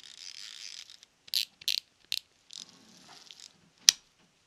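A Daiwa Alphas SV TW baitcasting reel, reassembled to test gear compatibility, gives a soft buzzing whir of turning gears, then a run of short clicks and ratcheting ticks ending in one sharp snap, all close and quiet.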